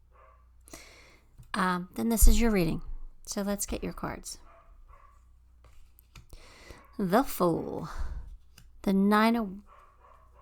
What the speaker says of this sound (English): Sorry about the puppy barking in the background.